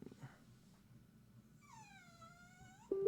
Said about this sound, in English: My dog is whining at me.